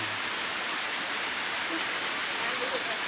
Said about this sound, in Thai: ฝนตกเนี่ยฟังเอาเลยพี่น้อง